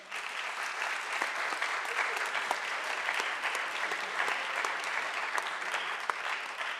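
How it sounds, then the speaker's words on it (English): An audience at a Saint Johnsbury Academy session claps steadily for several seconds, a dense, even wash of many hands filling the room at a moderate distance. "Another round of applause."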